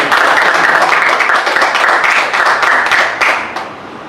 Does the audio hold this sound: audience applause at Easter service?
yes